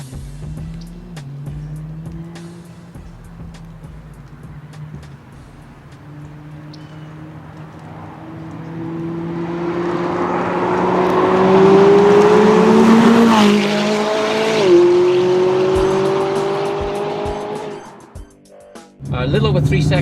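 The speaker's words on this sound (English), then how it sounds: "This car, here we go, just an unbelievable acceleration, really surprising." A 2016 McLaren 570S with a turbo engine launches and accelerates hard, its engine note climbing through several gear changes into a loud, swelling roar that peaks and then cuts off abruptly near the end.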